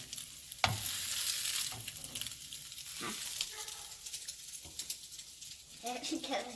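French toast sizzles and spatters in a frying pan, a steady crackle with occasional scraping and clatter, and a voice talks over it.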